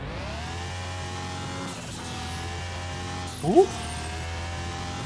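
A Toyota Supra tuned past 400 horsepower drives on the test track in Car Mechanic Simulator 2021, a steady droning engine note holding high revs, with a short squeal-like rise near the end and a brief exclamation from a man.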